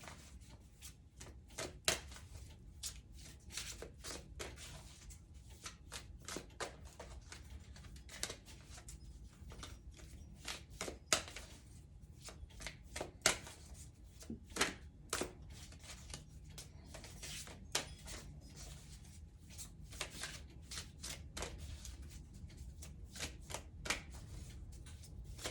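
Avebury Oracle cards are shuffled quietly and steadily for a long stretch, with soft rapid riffling and scattered sharper card snaps, and no talking.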